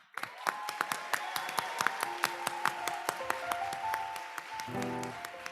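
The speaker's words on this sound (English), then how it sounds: "Ladies and gentlemen, please a warm round of applause for Penny Kravetsky." Scattered, fairly quiet clapping from an audience at an NCSY kumzits gathering, a series of distinct individual claps spread out over the stretch while a sustained tone enters near the end.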